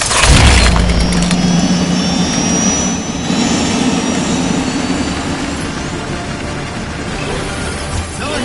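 A roaring aircraft jet engine in the video game Bulletstorm, loud and sustained throughout with a rising whine on top and a deep rumble underneath, with no talking.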